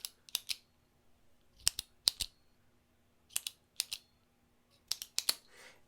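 Studio Neat Mark One pen clicking repeatedly, crisp close-up clicks arriving in quick pairs and triplets with short pauses, alone in a quiet room.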